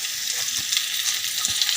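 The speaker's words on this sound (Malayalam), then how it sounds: "സവാളയൊന്ന് ശരിക്കൊന്ന് സോട്ട് ചെയ്ത് അതിൻ്റെ കളറൊന്ന് ചേഞ്ച് ചെയ്യണം" Sliced onions sauté loudly in a pan of hot oil for a Kerala clam meat fry, a bright constant sizzle broken by a few soft thuds as they are stirred.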